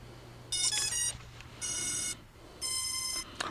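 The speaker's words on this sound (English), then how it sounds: "we'll turn the drone on first" A ZD012 GPS drone emits bright, multi-tone electronic beeps as it powers on: three separate bursts, each roughly half a second long, evenly spaced over a low background hum.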